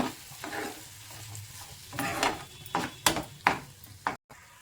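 Spoon stirring ground carrot mixture in a pan for a carrot sweet, giving several scraping, sizzling strokes that grow louder toward the end, close and with no talk.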